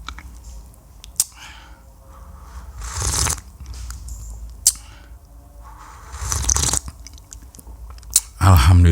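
Unsweetened Robusta coffee sipped up close in a few loud, airy slurps separated by quiet pauses, with no talking.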